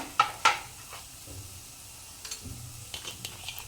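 Vegetables for jowar noodles are stir-fried in a pan with a quiet sizzle under sharp, close clinks and scrapes of a spatula against the pan, coming in scattered bursts.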